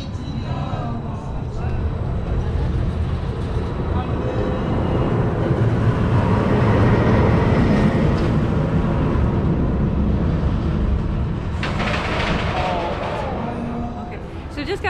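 The Mamba roller coaster train at Worlds of Fun roars past on its track during test runs, a sustained rumbling rush that swells in the middle and fades toward the end.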